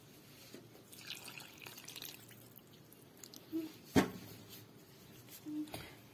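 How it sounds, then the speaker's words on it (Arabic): A glass of water is added to a milk mixture for milk harcha batter, giving soft trickles and a few distinct drips and splashes, one louder plop in the middle, in a quiet kitchen. "غادي نزيد عاوتاني الكاس ديال الماء"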